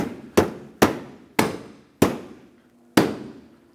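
Five sharp, hard knocks at uneven intervals as stiff bumper cover clips are struck into place on a 2009-2013 Honda Fit, each a close, loud thud with a short ringing decay and no talking.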